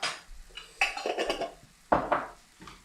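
A spoon stirs and scrapes through a mashed potato and ground beef mixture sprinkled with nigella seeds in a pot, with irregular clinks and scraping strokes, a few sharper knocks near the end, and no talk.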